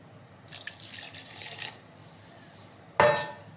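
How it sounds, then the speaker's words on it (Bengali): A little water is poured onto rice for grinding into a paste: a brief trickling splash lasts about a second, then after a pause a sharper, louder splash with a faint clink fades away. "চালগুলো আমি সম্পূর্ণটা ঢেলে দিলাম আর সামান্য একটু জল দেব।"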